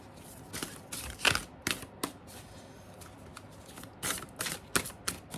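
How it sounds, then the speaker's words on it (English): A tarot card deck is shuffled up close, giving several quick papery riffling bursts spaced irregularly over a few seconds, with no talking. "these are hard to shuffle"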